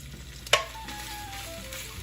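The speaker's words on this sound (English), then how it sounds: "throw in the sausages, the kielbasa that we've pre-cut. We're going to be browning those" Pre-cut kielbasa sausages hit a large pot and start browning over medium-high heat, opening with a sharp clank followed by a soft, even sizzle.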